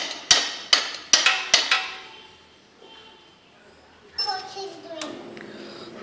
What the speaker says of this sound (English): Gently tap the wheel spindle on the right hand side.